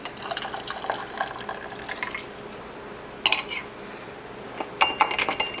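Hot sterilized glass canning jars being filled with zucchini relish through a funnel, close clinks of glass and utensils with wet spooning and scraping sounds in short bursts, no voices.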